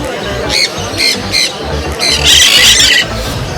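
A parrot at a busy pet bird market in Galiff Street, Kolkata gives loud, harsh repeated squawks close by, in bursts over a murmuring crowd and the babble of voices.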